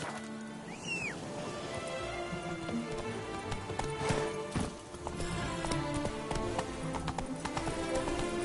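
Video game horse hooves clip-clop at a steady trotting rhythm as a rider travels through rain, with rainfall and ambient noise underneath and a brief whinny-like call near the start.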